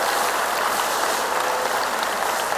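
Applause from an audience at a school teacher appreciation event for Pre-K to 5th grade, a steady dense wash of clapping that holds evenly throughout without talk.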